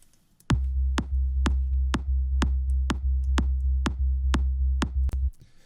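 Mono sub bass in a progressive house mix, sidechained to a kick bus: a deep, steady low tone pumping in a regular four-on-the-floor rhythm, ducking under each of about eleven punchy kick hits, loud and alone.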